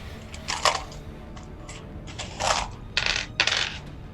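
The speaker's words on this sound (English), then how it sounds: "Sounds like a lot of dice." Dice clatter across a table during a tabletop role-playing game, in several separate bright rattling bursts of plastic on wood, the last few coming quickly one after another, close and fairly loud with no talk over them.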